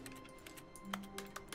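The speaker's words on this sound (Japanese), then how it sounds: "クリックするたびにゲームの中でタップ音が聞こえるのよ。 キーボードのタップ音。" In The Stanley Parable, in-game keyboard tapping sounds with each click as a quick series of light, faint taps at a fairly even pace over a low background hum.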